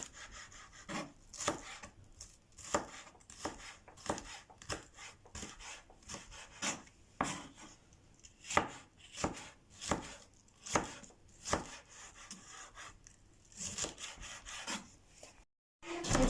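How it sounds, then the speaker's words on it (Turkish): Steady, rhythmic knife chopping on a cutting board as vegetables such as onions are cut into julienne strips for salmon baked in paper, many close, distinct strokes repeating about every half second. "Bütün malzemelerimizi jülyen jülyen doğrayacağız, jülyen şeklinde."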